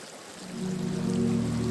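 Clear stream water near Tiger Falls flowing and splashing close by, rising into a steady rushing sound after a quieter start.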